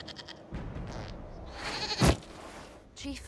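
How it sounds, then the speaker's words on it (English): A goat bleats in the Dragon Age Inquisition video game, a short wavering cry rising out of a busy in-game background with a brief louder burst near the middle and another bleat at the end. "we discovered this man attacking the building with a goat"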